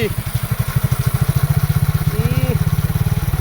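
Suzuki Gixxer motorcycle engine runs with its rear wheel spinning at speed, a loud, close, rapid pulsing thump with steady rhythm throughout, with a brief voice heard over it.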